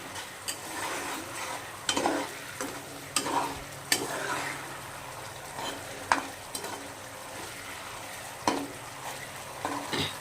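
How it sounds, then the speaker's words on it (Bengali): Chopped tomato sautéed with spices in a pan for catla fish curry, a constant low sizzle punctuated by repeated clinks and scrapes of a spatula against the pan, with no talking. "এখন আমি একটু টমেটো কুচি দেব, দিয়ে কষাবো।"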